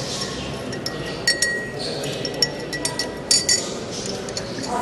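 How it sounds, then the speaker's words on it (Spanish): A spoon stirs sugar and fresh lime juice in a glass for a mojito, giving light, scattered clinks and taps against the glass over a steady background hiss. "vamos a revolver el azúcar con el limón para que se mezcle"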